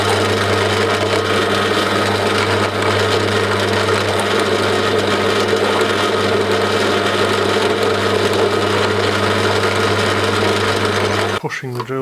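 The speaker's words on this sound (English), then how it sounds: "Pushing the drill bit." A power drill boring into metal while installing spiral stairs in an abandoned coach house, a loud, steady motor whine with a constant low hum and grinding bite, running unbroken before cutting off abruptly.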